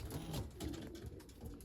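Racing pigeons in a loft give quiet, low, rolling coos, faint and close, repeating in soft murmuring phrases with no voices present.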